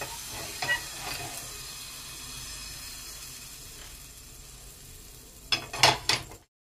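Patisapta batter sizzles in ghee on a pan, a soft steady frying hiss with a few faint clinks early on, then a louder burst of crackling sizzle near the end before it cuts off.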